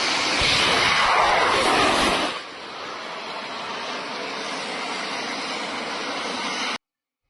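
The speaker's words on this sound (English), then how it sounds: "this is the moment our Bars jet drones are being launched" Bars jet drones launching, a loud roaring rush of engine thrust for about two seconds that cuts down to a steadier, fainter jet hiss before stopping abruptly.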